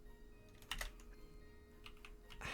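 A few quiet keystrokes on a computer keyboard as a password is typed, short scattered clicks in two small bursts, close up over a faint steady hum.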